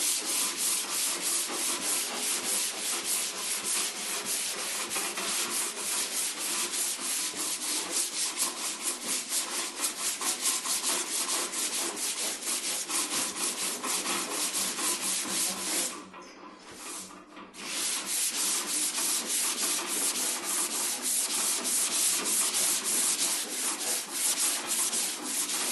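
Continuous dry scrubbing of 180-grit sandpaper block-sanding body filler on a 1979 Ford Bronco, steady and close with a rhythmic back-and-forth rasp and one brief pause near the end.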